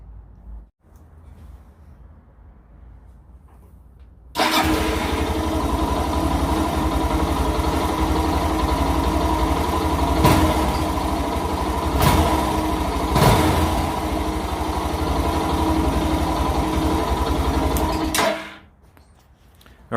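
A Suzuki DR650 motorcycle engine starts after a few quiet seconds and idles steadily and loudly with a throbbing single-cylinder beat for about fourteen seconds, then shuts off.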